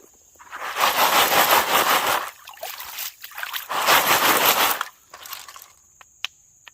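Gravel and stones rattling in a metal gold pan during prospecting, shaken hard in two long bursts of loud gritty crunching with a short pause between, then a few soft clicks as the pan settles.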